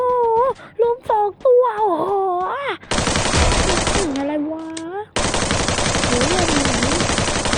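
Bursts of automatic gunfire in an online shooter match, dense sustained volleys filling the second half after a stretch of excited chatter and reactions from players.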